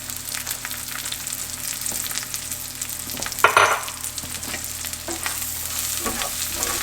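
Spinach and flour sizzling in a pan while being stirred, a steady moderate frying hiss with a brief louder scrape of stirring midway.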